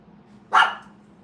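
A dog in a nearby bedroom gives a single sharp bark, slightly muffled by distance, over a low steady background hum.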